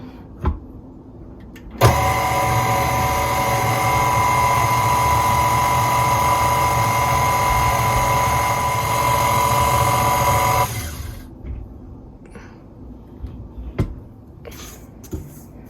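A stand mixer fitted with a paddle attachment churns chocolate cake batter on low speed, a steady, fairly loud motor whir that starts abruptly, holds evenly for about nine seconds, then cuts out, leaving quiet room noise.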